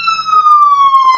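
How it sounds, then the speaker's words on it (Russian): Soviet SGU-60 police siren switched on, giving a loud, close, steady electronic wail that slowly falls in pitch, with faint clicks underneath. "Вот сирена включается."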